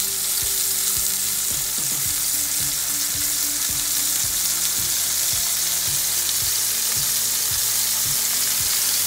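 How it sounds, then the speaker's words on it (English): Tomatoes lightly searing in oil in a pan, a loud steady sizzle and hiss with soft knocks as pieces are set down and moved, close up with no voices. "In the same oil, just gonna put the tomatoes down."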